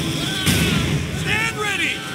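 Artillery and small-arms gunfire in Company of Heroes 2, with a sharp blast near the half-second mark followed by scattered pops and rumbling bursts, mixed under battlefield shouting.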